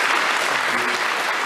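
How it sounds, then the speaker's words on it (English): An audience at a radio talk event gives a round of applause, dense and steady clapping that fills the whole short moment. "Please join me in giving Frank a round of applause."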